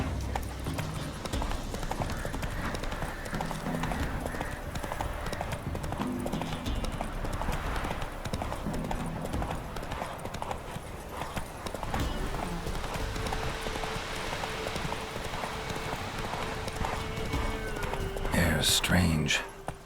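Hooves of Roach, the horse in The Witcher 3, clip-clopping steadily and closely over the ground, mixed with game music and a voice speaking, ending with a brief burst of sharper noise.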